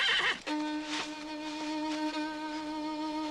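A horse lets out a whinny, a high wavering call followed by sustained tonal neighing, fairly faint against quiet surroundings.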